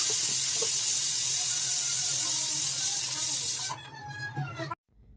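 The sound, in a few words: pressure cooker cooking lentils releasing steam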